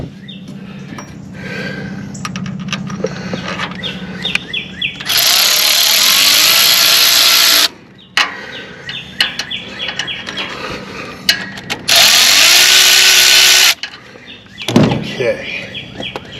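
A power tool runs a bolt into a broken-axle Grasshopper 721 mower's Eaton 771 transaxle in two long, loud bursts, with clicks, clanks and handling noises between them.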